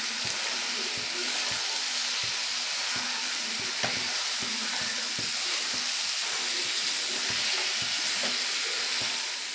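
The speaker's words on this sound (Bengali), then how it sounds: "এই যে কষা মশলার মধ্যেই কিন্তু এই মাশরুমগুলো অল্প অল্প করে দিয়ে দেব।" Mushrooms frying in a thick spice paste in a pan, a loud, steady hissing sizzle broken by regular stirring knocks and scrapes throughout, with no talking.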